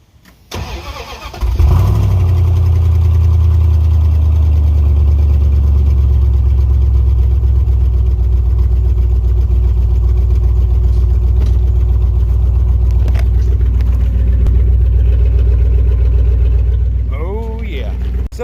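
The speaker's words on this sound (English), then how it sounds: "So I'll sit y'all up and let y'all hear this exhaust." Pickup truck engine cranking and firing up, then settling into a loud, close, deep rumbling idle through the exhaust with a slight knock, holding steady for over fifteen seconds before easing off slightly at the end.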